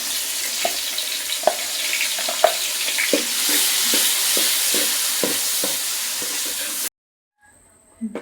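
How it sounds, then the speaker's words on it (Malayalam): Cooked, ground chickpeas fry in ghee in an uruli, a steady close sizzle broken by regular spoon scrapes and knocks against the vessel, ending in sudden near-silence after a few seconds. "ഉരുളി വെച്ച് നെയ്യ് ഒഴിച്ചതിന് ശേഷം കടല മിക്സിയിൽ വേവിച്ചടിച്ച് ഇട്ട് വറക്കണം."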